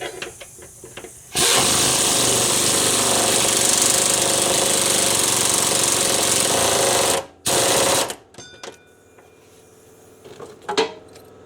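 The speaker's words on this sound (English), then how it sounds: "put the nuts on, and I'll tighten them down" Power tool driving a socket to tighten nuts onto deck bolts during a deck repair, a loud steady rattling burst lasting several seconds, then a short second burst and scattered handling clatter.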